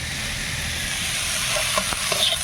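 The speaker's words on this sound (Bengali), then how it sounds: "শাক ভাজছি" Leafy greens frying in a pan give off a steady, dense sizzle, close and fairly loud, with a few faint stirring knocks toward the end.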